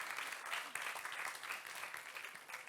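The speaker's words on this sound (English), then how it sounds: "Round of applause" A pitch competition audience gives a round of applause at the close of the event, with dense, continuous clapping from a crowd filling the hall.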